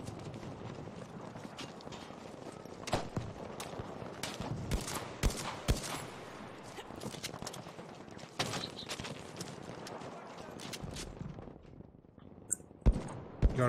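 Rapid gunfire bursts and sharp single shots from the Battlefield V shooter game, including a semi-automatic Selbstlader 1906 sniper rifle, cracking irregularly throughout amid mechanical rattles and clicks, loud and close with no voices.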